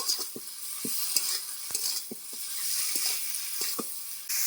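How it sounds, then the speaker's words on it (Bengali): Small kuche fish sautéing with tomato and spices in a pan, giving a soft, continuous sizzle broken by intermittent scraping stirs of a spatula, close and moderately quiet, with no voices. "মশলার সঙ্গে আমি কুটো মাছটা কিন্তু ভালো করে কষিয়ে নিয়েছি"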